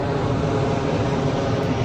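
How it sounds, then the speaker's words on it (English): An airplane passes overhead at night near a cemetery in Orlando, a steady broad engine rumble that fills the background evenly without any voices. "sorry for the overhead airplane going through."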